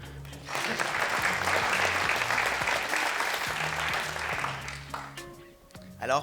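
Indoor audience at a college science competition clapping steadily for several seconds, a dense wash of applause over background music that tapers off near the end.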